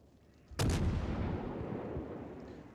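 A naval gun salvo in World of Warships goes off as a sudden heavy boom, then rolls into a long, fading rumble.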